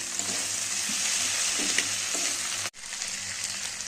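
Potato, onion and tomato fry in hot oil, making a steady close sizzle with a few stirring scrapes, and the hiss briefly cuts out near the end before resuming.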